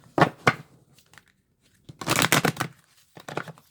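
Tarot cards being shuffled by hand, heard as a few short, crisp riffling bursts separated by silent pauses, close and fairly quiet.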